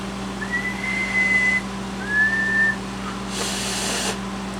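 A person whistles into the microphone of a recapped Maco 300 radio amplifier on the bench, keyed into a dummy load: two sustained whistled notes, the second slightly higher, over a constant electrical hum, then a short burst of hiss.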